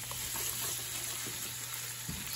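Shrimp for linguine shrimp scampi hit a hot pan and sizzle with a constant dense hiss, close and even, with a low steady hum underneath and no voice.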